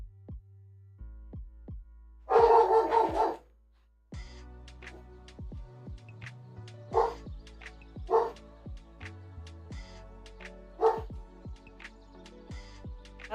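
A phone text-message alert plays a recorded dog barking, short yips and bow-wows in a bright electronic burst, sharp and close, repeating in a loose rhythm with no talk.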